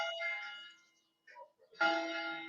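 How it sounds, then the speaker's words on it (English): Bells ring in bursts of bright, sustained metallic tones, a long peal fading out, a brief pause with a few faint clinks, then another strong peal that rings on steadily; quiet and somewhat distant. "They're ringing the bells"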